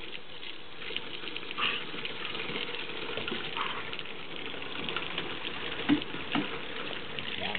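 A dog named Misty laps water steadily, a soft continuous wet patter close by, with a couple of louder splashy slurps near the end.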